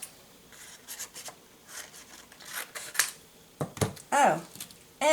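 Scissors cut out a paper sentiment for a craft card in a string of short, close snips and crisp paper rustles with small pauses between cuts.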